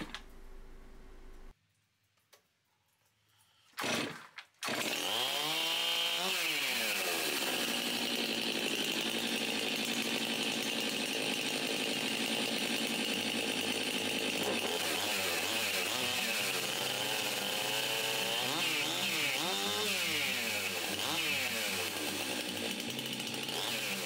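A chainsaw is cold-started: a brief quiet spell and a short pull clatter, then the engine catches and runs loud and close, revving up and down continuously with no talking.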